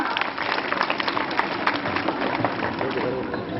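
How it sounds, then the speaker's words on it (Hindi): Audience at a mother-language day event clapping loudly for three competing groups, a dense continuous patter of hands throughout, with voices murmuring underneath. "तो तीनों ग्रुप्स के लिए एक बार पुनः जोरदार तालियां।"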